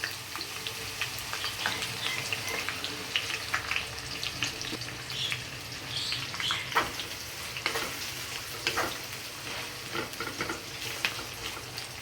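Chopped onion sizzling in hot oil with fried garlic and green chillies for a mutton curry, a continuous close crackle with scattered sharp pops and occasional stirring.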